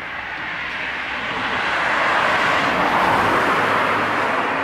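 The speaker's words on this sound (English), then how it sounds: "But there is definitely still cars just moving around." Cars drive by on a quiet street in Japan around 3 a.m., a steady broadband roadway rush that swells as a vehicle passes close, with no voices.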